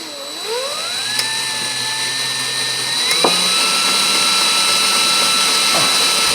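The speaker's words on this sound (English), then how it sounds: "And I'm just going to drill 2 holes." A power drill boring two holes with a 17/64 bit for a shock bolt on a Jeep XJ, a steady whining motor pitch that ramps up, holds, then shifts as it bites, fairly loud and close.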